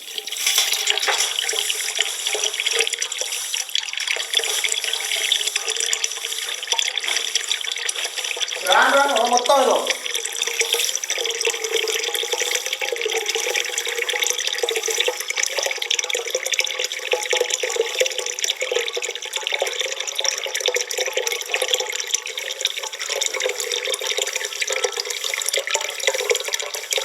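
Mission Bhagiratha municipal tap water runs steadily into a metal pot (bindhe) in a village, a continuous close splashing hiss lasting throughout, with a brief spoken remark partway through.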